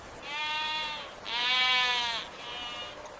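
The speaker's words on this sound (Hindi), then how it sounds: "बाबा देखो, ये अवासी नस्ल की भेड़ें हैं" Awassi sheep bleat three times in a row, long wavering cries with the middle one loudest, heard close and alone with no talk.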